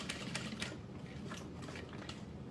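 Sewing machine running close by as it stitches two lines along the bottom of a bag strap, a fast, even mechanical chatter with regular needle ticks and no talking.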